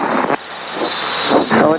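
A Robinson R22 helicopter in flight, its engine and rotor giving a steady droning roar with a thin whine on top, heard through the cockpit while radio voices come and go.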